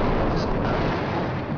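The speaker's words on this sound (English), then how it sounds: "There's a large explosion." A large explosion from 2,000-pound satellite-guided GBU bunker buster bombs, a loud, sustained low rumble and roar that fills the whole moment with no speech over it.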